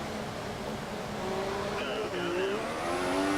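F1 race cars in the F1 2014 video game accelerating on a wet, standing-water track in Austria, engines whining upward in pitch through several gear shifts, steady and fairly close.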